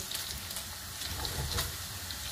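Paneer frying in a pan, a steady dense sizzle with small crackles throughout, fairly close and even in loudness, no voices.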